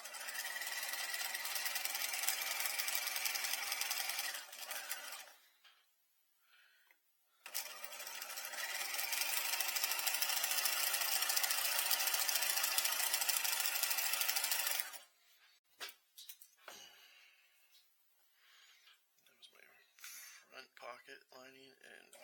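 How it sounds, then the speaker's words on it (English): A sewing machine runs a stay stitch half an inch in along a skirt waistline and pocket lining, whirring loudly in two long bursts separated by a short pause, followed by softer handling noises. "So we'll stay stitch those at 1/2 inch, because that's what the seam allowance is."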